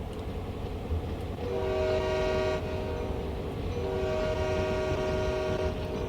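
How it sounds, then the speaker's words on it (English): A locomotive runs on the Oakville Subdivision route in Train Sim World 3, its horn blaring in two long, loud blasts over a steady rumbling engine and rolling wheels. "I'm driving a train."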